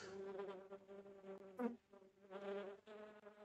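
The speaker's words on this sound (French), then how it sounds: "Je ne sais pas jusqu'où cette mouche peut monter." A fly buzzes steadily in the video game The Plan, a continuous droning hum that wavers slightly in pitch, with no talking over it.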